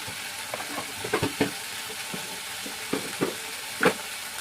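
Turmeric and Kashmiri chilli powder sizzle in hot oil in a pan, a steady soft frying hiss broken by scattered scraping stirs and a few sharper knocks, close and fairly faint with no talking.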